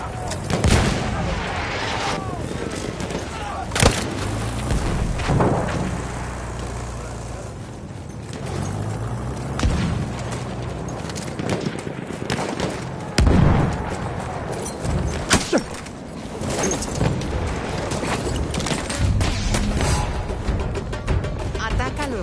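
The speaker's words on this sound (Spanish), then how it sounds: "Espera a que cese la descarga de artillería enemiga." An enemy artillery barrage in a PS4 video game: repeated booming impacts and gunfire bursts at irregular intervals, loud and close, with voices talking intermittently over the shelling.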